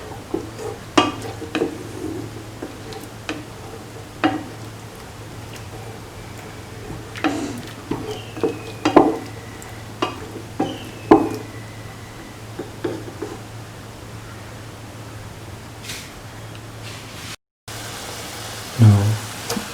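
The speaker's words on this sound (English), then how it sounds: "Let the mixture boil." A lemon chickpea rice mixture bubbles in a pot while a spoon stirs it, giving off scattered scrapes and light clinks over a steady low hum, close and moderately loud.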